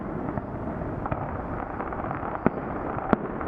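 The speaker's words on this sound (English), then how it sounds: "It's amazing that they have such great fireworks every week." A fireworks display over Sydney crackles and rumbles from a distance, a continuous wash of bursts with a few sharper pops standing out, no talk.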